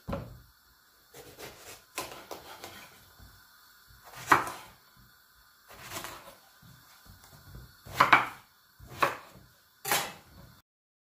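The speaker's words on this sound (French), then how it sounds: "Les aubergines, j'enlève les extrémités" Knife cutting the ends off aubergines on a board, with several sharp chopping knocks spaced irregularly amid quieter handling sounds, no talking.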